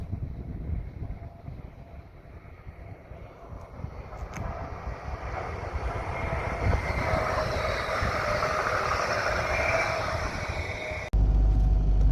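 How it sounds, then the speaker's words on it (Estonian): A loud rumbling roar builds gradually as a train passes close by, with wind buffeting the microphone, then cuts off abruptly near the end. "Tuleb rong."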